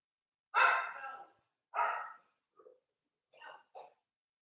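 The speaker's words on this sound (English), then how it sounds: "I have two dogs now, and they're fighting, and it's ridiculous." Two dogs fighting at home, giving a few loud, sharp barks and yelps close by with short gaps between them, followed by softer whimpering noises.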